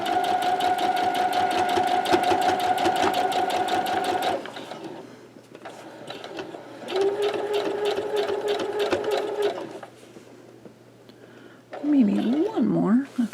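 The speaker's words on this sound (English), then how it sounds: "I'm going to stitch right along this part to this point" A sewing machine stitches in the ditch along a quilt block, running in bursts with steady rapid needle pulses, pausing between runs while a voice talks quietly and fabric is shifted.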